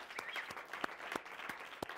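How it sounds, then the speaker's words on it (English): A studio audience on a television talk show claps, with a crowd of hands forming a steady patter and several sharper individual claps standing out in a loose rhythm. "Clap it up."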